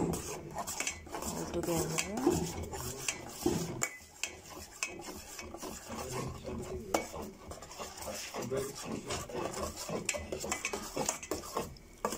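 A utensil stirs and scrapes a jelly powder mixture for carrot jelly in a bowl, giving steady clinking and scraping strokes with a brief pause partway through, close and fairly loud with no talk.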